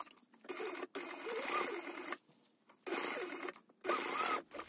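Sewing machine stitching the lining of a handbag in three bursts of steady, close whirring separated by short pauses.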